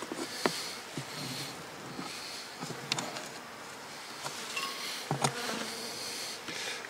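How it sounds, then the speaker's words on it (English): A steady insect drone of many honeybees buzzing close by inside a hive in winter, with occasional louder individual buzzes passing near the microphone and brief clicks. "there's a lot of bees in this hive"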